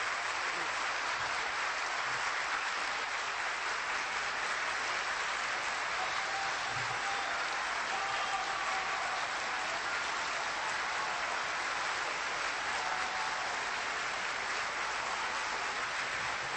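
An audience applauds at the end of Ahmadinejad's speech at a Geneva conference, a steady, dense, even clapping that carries on unbroken for a long stretch, heard from a distance and fairly faint.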